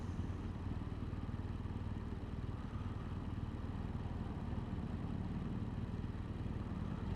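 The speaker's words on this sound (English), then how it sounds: "There's a big old Harley going." A big old Harley-Davidson motorcycle rumbling past in morning commute traffic, a steady low engine drone mixed with surrounding vehicle noise throughout.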